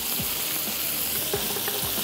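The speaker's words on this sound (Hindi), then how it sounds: "फिर अब हम चिकन को भून लेते हैं" Chicken pieces browning in a pan for saffron chicken curry, an even, continuous sizzle with a few soft stirring knocks over it.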